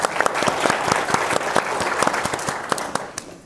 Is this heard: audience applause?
yes